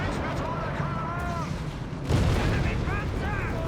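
Whiz-bang rocket artillery firing in Company of Heroes 3, a low rumbling barrage of booms that swells and grows louder partway through, heard under game effects and other battle noise.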